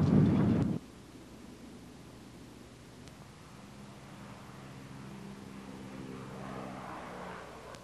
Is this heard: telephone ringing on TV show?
no